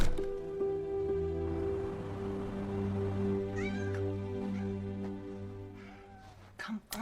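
A cat meows, drawn-out and close, over a steady low hum and background music, with a few brief sounds near the end.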